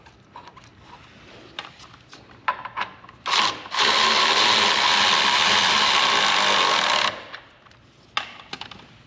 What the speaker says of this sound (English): I have to use the ratchet to walk this one in.